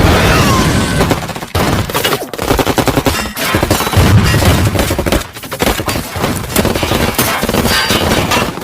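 A film battle scene roars with sustained machine-gun fire and bomb blasts, dense and loud throughout with rapid bursts, booms and shattering debris.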